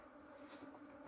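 Swarm of honeybees buzzing, a faint but dense, continuous hum from many insects throughout the short moment.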